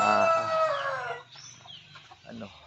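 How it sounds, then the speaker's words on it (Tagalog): Native chickens crow and cluck close by, with a loud rooster crow at the start that fades into softer, scattered clucks. "Update sa ating mga native chicken."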